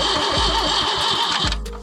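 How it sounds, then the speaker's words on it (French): A car's starter cranks in quick rhythmic pulses, then the engine catches and runs, close and fairly loud, with the turning note trailing off near the end; no one speaks. "Voilà, le démarreur essaye."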